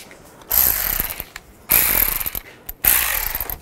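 Three quick bursts of rapid ratchet clicking as water pump bolts are tightened on a 2010-2017 Chevrolet Equinox, each run close and loud, separated by brief quiet gaps.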